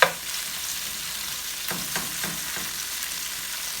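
Shrimp frying in a pan, cooking on both sides, with a steady broadband sizzle throughout and a few soft scraping or stirring touches near the middle, close and fairly loud, with no talking.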